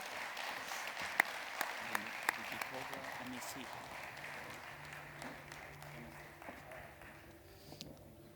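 Applause from the audience at the World Football Summit Africa 2022 closing ceremony greets the WFS team and volunteers, a steady crowd clapping with a few loud close claps, while a voice and background music carry on underneath.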